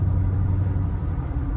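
Deep, steady exhaust rumble from a 2019 Dodge Charger Hellcat with its mid mufflers deleted, heard from inside the car as a loud, continuous low drone with no break.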